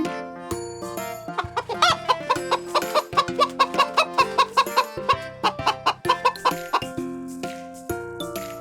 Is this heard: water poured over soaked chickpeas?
no